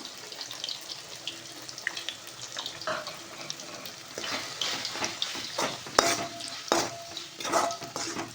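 Masala powder sautéing with onions in a pan for a murrel fish curry, with scraping stirs and soft sizzling that come and go, steady close-up frying noise with occasional louder clinks of the spoon.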